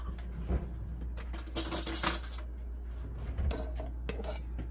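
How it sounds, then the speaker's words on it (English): Metal spoon picked up in a home kitchen while making gummies, a cluster of bright clinks and rattles of cutlery against utensils, close and moderately loud, with quieter handling knocks before and after. "let me get a spoon"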